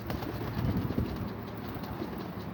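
A skittish, stubborn pigeon cooing nearby, soft low throaty murmurs rising briefly in the middle and fading, faint over a quiet outdoor background.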